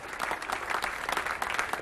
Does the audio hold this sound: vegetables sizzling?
no